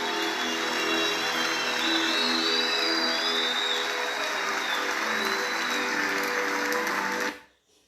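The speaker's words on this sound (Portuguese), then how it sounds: "Aplauda forte a Ele" Sustained congregational applause at a church communion service, loud and steady throughout, then stopping abruptly near the end.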